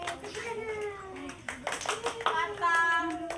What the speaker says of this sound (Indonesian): Oke, tepuk tangan, jangan tepuk tangan buat teman-teman.